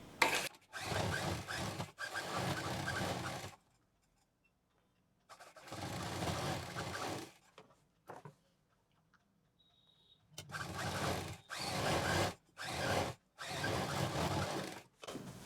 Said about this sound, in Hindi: इस पर हम एक दाब मशीन चलाएंगे। ऊपर की तरफ डबल मशीन चलानी है।